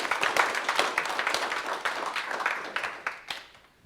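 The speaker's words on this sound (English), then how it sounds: "please a round of applause for both our speakers" Audience applause at a live coding meetup, a burst of many hands clapping close and fairly loud, then gradually thinning and fading out toward the end.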